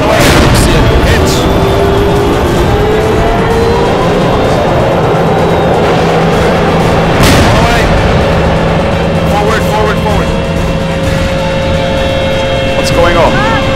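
A tank is hit and destroyed in an ArmA 2 large-scale tank battle: heavy booming blasts and rumbling vehicle noise continue loud and dense throughout, with voices talking over the din.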